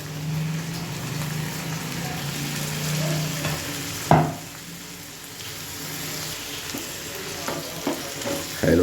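Tomatoes tossed into a pan of sizzling mushroom curry masala spiced with garam masala and chili powder, cooked outdoors in the countryside; a steady frying hiss with a sharp splash and sizzle burst midway, then stirring clatter.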